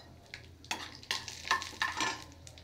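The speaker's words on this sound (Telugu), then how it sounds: "బాదం వేగిపోయిందండి. కొన్ని గుమ్మడి గింజలు వేస్తున్నాను." Almonds and pumpkin seeds fry and get stirred in a pan, giving close, irregular scraping and sizzling bursts with short pauses between strokes.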